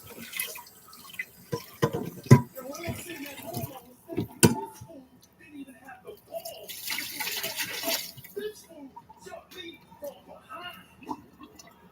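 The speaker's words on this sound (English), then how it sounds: "Let me give it a quick rinse." Water running and splashing at a kitchen sink while a pot is quickly rinsed during chicken casserole cooking, with uneven drips and sloshes, a few sharp clanks, and a hiss of running water near the middle. Speech is heard at times.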